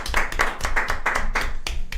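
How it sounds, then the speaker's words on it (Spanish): An audience claps to welcome a former prisoner of war as a guest speaker: sharp, distinct hand claps with slightly uneven rhythm, close and fairly loud. "Un aplauso."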